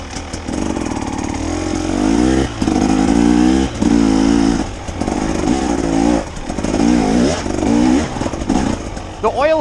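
A 2024 KTM 300 XC-W two-stroke dirt bike with oil injection, its engine running close and loud, revving up and dropping back in repeated surges, with a person's voice heard over it.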